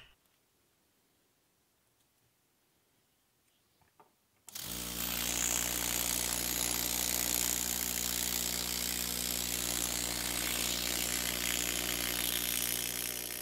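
A prototype powered engraver handpiece cuts with a graver: near silence at first, then a loud, steady buzzing drone kicks in and runs unbroken to the end.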